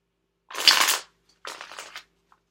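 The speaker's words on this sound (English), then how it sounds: "So I'm going to go within and see what's coming up, shuffle this a few more times." Tarot cards being shuffled by hand in two quick riffling bursts, the first louder and longer, the second softer, with a brief tap at the end and no talking.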